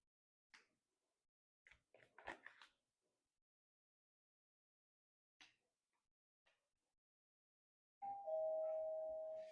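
A doorbell rings for a food delivery, a single clear sustained electronic chime near the end after a few faint scattered knocks and bumps in an otherwise quiet room.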